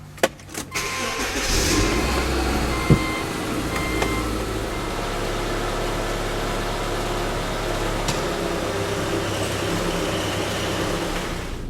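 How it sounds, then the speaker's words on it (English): A 2007 Subaru Outback with a rear suspension noise being driven, heard from inside the cabin as a steady low road and engine rumble with a few thumps and knocks near the start. "let's start by taking this thing for a drive."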